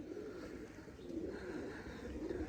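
Sialkoti pigeons kept as breeding pairs at home coo in a low, continuous, rolling murmur, faint and steady throughout with no talking.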